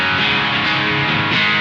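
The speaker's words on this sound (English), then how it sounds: "this is a like fluid, bitey sounding distortion" Electric guitar through a T-Rex Dr Swamp distortion pedal, a brief loud burst of thick, sustained distorted chord with a biting edge, steady and dense throughout.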